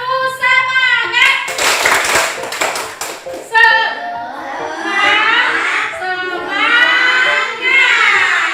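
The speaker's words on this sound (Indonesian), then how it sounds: "Ya, kita tepuk semangat." Classroom of schoolchildren doing a rhythmic spirit clap, bursts of patterned clapping mixed with loud chanting voices and a teacher's speech, near and lively.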